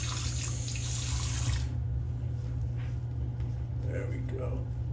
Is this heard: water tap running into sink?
yes